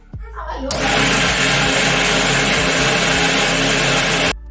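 An electric blender whirs loudly and steadily for about four seconds, grinding a young child's food into a paste, starting abruptly and cutting off sharply at the end.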